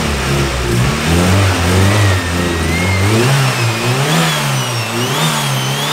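A Honda EK hatchback engine idles roughly and then revs up and down several times, loud and close, its pitch rising and falling with each blip.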